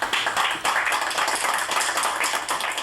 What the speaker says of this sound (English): a decision that met with a round of applause